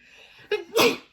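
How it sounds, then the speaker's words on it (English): A sharp inhaled gasp leads into a forceful close sneeze, a brief explosive burst that ends abruptly. "Oh, I'm gonna sneeze."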